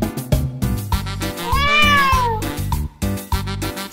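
A black cat meows repeatedly, close and clear, in a run of short calls with one longer, rising and falling meow in the middle, and no one speaking.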